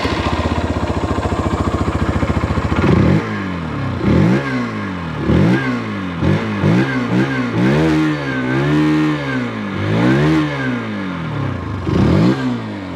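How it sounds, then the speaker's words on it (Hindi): A 160cc motorcycle idles with a rapid thumping exhaust note, then revs sharply again and again, each rise and fall loud and close with no talk. "चलिए इसका एग्जॉस्ट नोट यहाँ पर हम करा देते हैं कि कैसा इसका"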